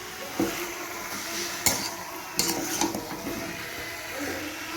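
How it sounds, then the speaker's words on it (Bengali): Potatoes go into a pan of frying chicken biryani masala: a low sizzle under scattered utensil clanks and stirring scrapes, with a few sharp knocks. "কষানো হয়ে গেলে আলুগুলো দিয়ে দিলাম"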